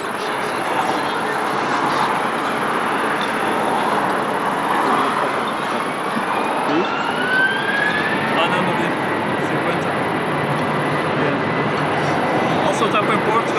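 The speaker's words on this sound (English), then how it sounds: "It's a privilege style Airbus A321 operating to TAP Air Portugal." A TAP Air Portugal Airbus A321 jet taking off from runway 20 at Lisbon Airport, a steady loud engine roar with a rising whine heard from a distance, and voices talking over it.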